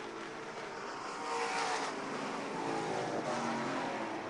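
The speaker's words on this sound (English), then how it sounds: "as they race into the west end of the speedway" Race cars roar around a speedway at a season-opening event, a steady, dense engine wash that swells slightly near the middle and holds loud throughout, with no voices.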